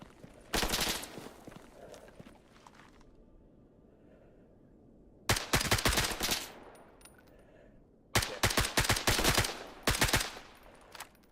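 Rifle fire in semi-automatic mode inside the S.T.A.L.K.E.R. GAMMA video game: a loud burst of shots, a quiet gap, then two more rapid bursts of closely spaced single shots, with no talk.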